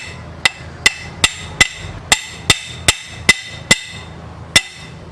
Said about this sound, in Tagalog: Tapos dahan-dahan nating pukpukin.